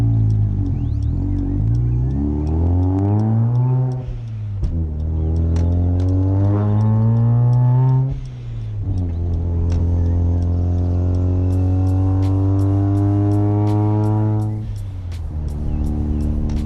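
A rotary car engine idles and revs repeatedly, pitch rising and falling in long sweeps, loud and close with no talking.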